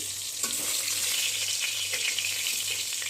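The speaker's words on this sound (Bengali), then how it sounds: "আমার মাছটা ভাজা হয়ে গেছে এখন তুলে নিচ্ছি" Sea fish fried in hot oil in a pan sizzles steadily as the pieces are lifted out, with faint scraping clicks over a constant hiss and no voices.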